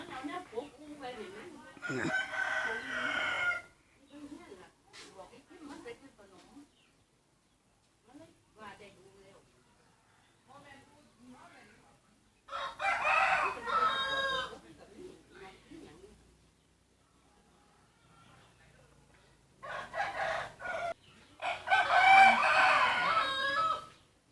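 Chickens cluck and a rooster crows in several loud bursts separated by quieter gaps, with voices talking faintly in between.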